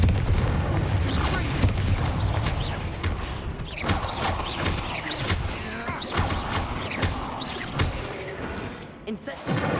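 The Confringo blast spell goes off in a tomb in Hogwarts Legacy, with a string of sharp cracks and booms over several seconds amid clattering combat noise and intermittent speech.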